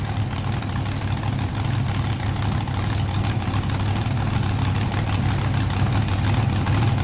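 The pulling tractor Rough and Ready runs its engine at a farm machinery show with a steady, loud, low roar that holds throughout. No voices are heard over it.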